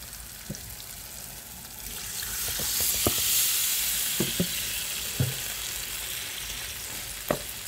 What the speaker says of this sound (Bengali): এখন আমি ঝোলের জন্য জল দিয়ে দিচ্ছি।